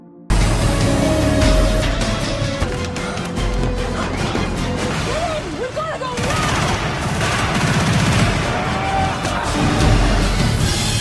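Gunfire rattles through an action film scene as a team fights back beside an armoured vehicle, dense bursts of rapid shots and impacts continuing throughout alongside engine noise and shouting voices.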